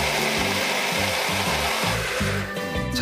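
A blender whirs loudly and continuously at close range grinding chives into oil, its motor pitch wavering slightly as the contents churn, with no voices.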